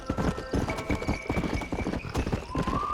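Horse hooves clip-clop rhythmically and close in the video game Undead Nightmare, a steady trotting gait under faint game ambience with a brief whinny-like tone.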